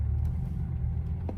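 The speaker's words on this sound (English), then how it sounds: "if you flick this to the left, you do get a loud sports mode and you hear the engine of the car" A BMW i8 hybrid supercar with its engine in sports mode gives a steady, close low rumble that holds at an even level throughout, with no voices.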